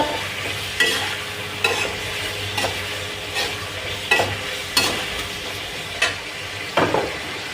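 Ingredients with a little salt are stirred and mixed in a sizzling frying pan, the spoon scraping in repeated sharp strokes over a steady fry, close and without talk.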